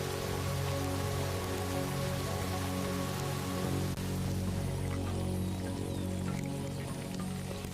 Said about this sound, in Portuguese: Isto é mais que chuva, mais que água para beber.